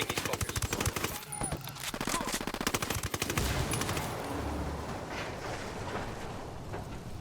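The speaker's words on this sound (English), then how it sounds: "I'm shooting these fuckers." Rapid automatic gunfire and bursts of shots from the video game Ghost Recon Wildlands, loud and close, thinning into a rumbling wind-like ambience after about four seconds, with no talk.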